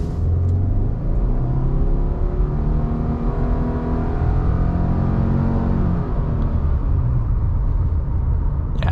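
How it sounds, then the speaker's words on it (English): A 2021 Subaru Crosstrek Limited pulling away from a stop under full throttle, heard from inside as a loud, steady engine drone and road rumble that builds without any break. "Once it gets up into the rev range, the motor gets a little bit loud"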